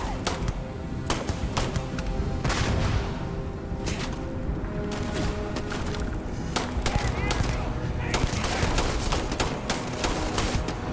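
VSS Vintorez rifle gunfire in the Starfield video game, rapid repeated shots in bursts over a dense, loud background of game noise, with voices talking underneath.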